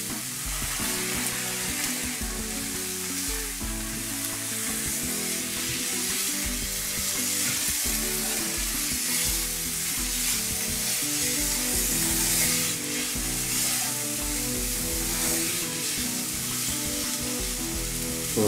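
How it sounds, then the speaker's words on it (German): Wine reduces in a hot frying pan while lamb fillet cooks, giving a steady, loud, crackling sizzle that continues without pause, with occasional stirring and scraping. "Lass es einreduzieren, bis kein Wein mehr in der Pfanne ist."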